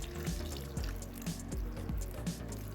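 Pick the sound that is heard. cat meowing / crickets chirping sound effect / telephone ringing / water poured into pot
water poured into pot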